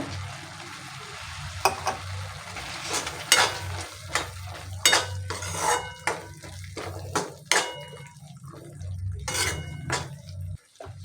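Green peas are tipped into a pan and stir-fried, with repeated sharp scrapes and clinks of a spoon against the pan over a low, steady sizzle.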